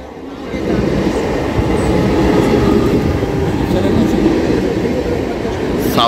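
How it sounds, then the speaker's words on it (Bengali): The 38056 Haldia–Howrah fast local train rumbles steadily from onboard, a loud continuous rolling clatter of wheels on rails. "আমাদের ট্রেন কিন্তু ঢুকে গেছে 38056 ডাউন হলদিয়া হাওড়া ফার্স্ট লোকাল"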